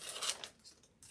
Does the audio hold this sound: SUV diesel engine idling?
no